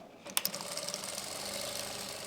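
A sewing machine stitches the elastic waistband of a Kashmiri-style palazzo, starting with a sharp mechanical clack and settling into a faint, steady whirring run of rapid ticks, with no voices.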